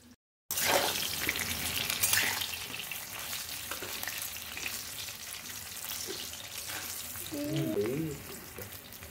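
Potato pieces fry in hot oil in a home kitchen, giving a steady, close sizzle with occasional stirring scrapes, and a brief murmur of a voice passes near the end.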